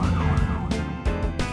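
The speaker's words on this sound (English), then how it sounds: "Ambulance to the rescue!" A short burst of a cartoon ambulance siren wails with rising and falling tones, loud and close, over a low engine rumble.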